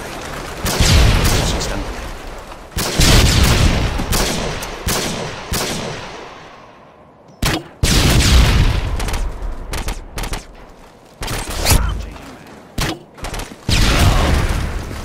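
Explosive bursts in a multiplayer search-and-destroy shooter match: loud, sharp blasts and rapid gunfire volleys that decay into rumbling tails, separated by short quiet gaps, with no clear sign of a stun grenade going off.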